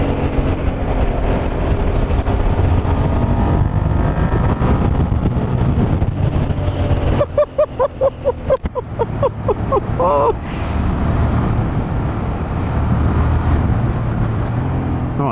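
A 20-year-old, very high-mileage Suzuki SV650S motorcycle is ridden hard along country lanes, its engine droning loudly under heavy wind buffeting, with a brief rise and fall in revs midway through.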